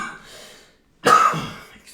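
After a faint breathy sound and a brief silence, one loud, harsh cough bursts out close to the microphone and trails off.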